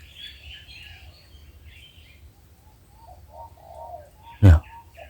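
A spotted dove calls from high in a tall tree in a forested hill area, giving soft, faint cooing phrases over light background noise, followed by a sudden loud close knock near the end.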